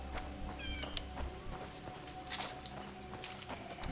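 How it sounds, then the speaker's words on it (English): A house cat meows briefly and scampers around a desk with soft patters and thumps. A low hum from a video game runs beneath it, and everything stays faint and indoors. "My cat is running around my desk."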